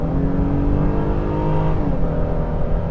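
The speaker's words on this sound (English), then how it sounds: "this new dual overhead cam, naturally aspirated V6 engine from Honda is just so brilliantly tuned, and it also sounds pretty good as well" The dual overhead cam, naturally aspirated V6 of a 2023 Honda Pilot revs loudly and steadily, its harmonic drone climbing slightly in pitch, heard up close with no talking.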